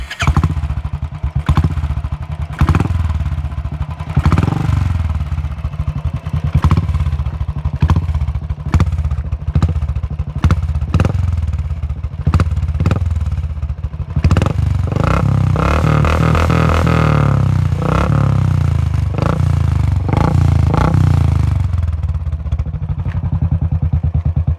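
A modified Royal Enfield Thunderbird motorcycle with an aftermarket exhaust, starting up and idling with a loud, thumping single-cylinder beat, then several sharp throttle blips and revs, close by and without talk.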